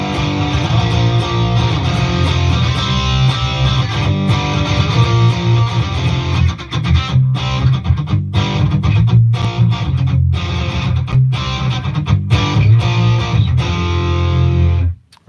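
A loud, heavily distorted electric guitar plays sustained chords through a distortion box on a Headrush rig, thick and buzzing, with a few brief choppy breaks near the end.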